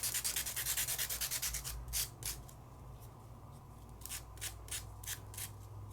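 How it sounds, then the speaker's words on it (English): A scratch-off rubber stamp is sanded by hand, producing quick rhythmic rasping strokes up close that start fast and loud, then slow into spaced, softer rubs, with no talking. "And we'll just sand."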